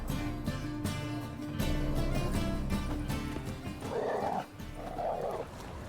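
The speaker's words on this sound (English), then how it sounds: "Just beware of the dogs." Dogs in The Witcher 3 video game give a couple of short barks against a loud, continuous game ambience with music.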